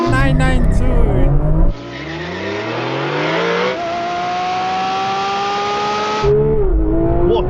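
Porsche 992 GT3 RS launching hard in a drag race, loud engine note climbing steadily through first gear, dropping at the shift and pulling on through second, with a loud voice in the cabin before and after.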